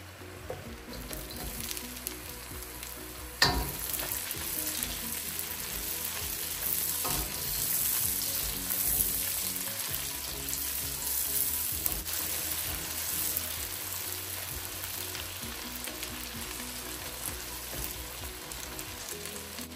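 Onions frying in a pan of butter and garlic for vegetable lumpia give off a steady, dense sizzle, with occasional louder stirring scrapes near the start, continuing without talk throughout.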